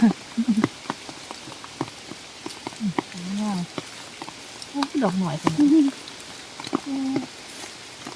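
Steady heavy rain patters densely on the ground and nearby surfaces during termite mushroom picking outdoors, with someone talking in short bursts over the continuous downpour.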